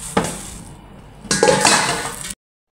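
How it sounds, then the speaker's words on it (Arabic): Lemons drop into a glass jar in two clattering bursts, first a brief clink and then a longer rattle of fruit knocking against the glass, close and fairly loud. "احاول بقى احط الليمون كله كده اهو في البرطمان"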